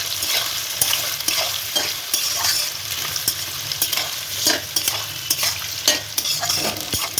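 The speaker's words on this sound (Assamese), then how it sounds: "এতিয়া পিঁয়াজখিনি ৰঙচুৱাকৈ অকণমান ভাজি ল'ম।" Onions frying in oil with whole cloves, cardamom and bay leaves in a kadai for mutton biryani: loud, continuous close sizzling with frequent quick scrapes and taps of a stirring spoon, with no talking.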